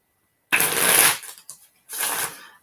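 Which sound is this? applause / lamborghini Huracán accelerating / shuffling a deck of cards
shuffling a deck of cards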